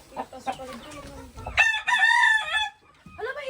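Chickens cluck and a rooster crows loudly at a farm coop, a close crow rising in the middle, with short clucks and bird calls around it and faint voices nearby.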